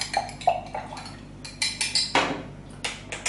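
A utensil stirs a garlic-based hair lotion mixture in a container, producing repeated close clinks and scrapes against the sides in an irregular rhythm, with one louder rattling knock near the end.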